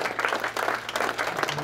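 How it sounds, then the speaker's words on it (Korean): Members of a memorial association stand as the audience at a memorial ceremony for President Syngman Rhee gives them a brief round of clapping, close and lively, with a low hum beneath. "다 한번 또 한번 박수로 이분들의 수고를"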